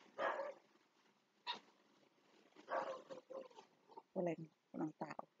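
A dog barks in short, irregular bursts nearby, mixed with a person talking, the barks coming in a quick cluster toward the end.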